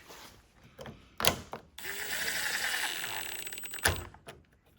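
Ratchet turning screws on the headlight housing of a 2015 Ford Mustang 3.7L V6, a few sharp clicks then a sustained rapid clicking run, close and loud, with no talk over it.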